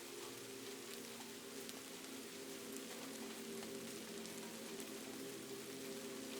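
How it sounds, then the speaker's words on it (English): Soft, continuous rain at night falling on old roof tiles in Kyoto, Japan: a quiet, even hiss with no pauses or distinct drops standing out. "The rain is all there is now."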